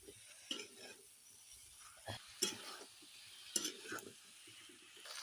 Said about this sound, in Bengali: এর সঙ্গে মশলার সঙ্গে ভালো করে কষিয়ে নিচ্ছি